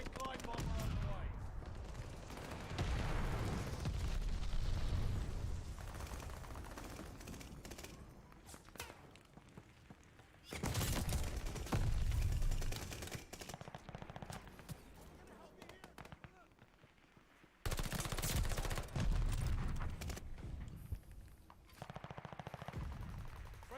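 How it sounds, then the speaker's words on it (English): A Call of Duty Vanguard match fills with repeated bursts of gunfire and rumbling explosions from an allied glide bomber strike, loud waves of blasts separated by quieter stretches, with a voice speaking over the battle. "Allied glide bomber on the way."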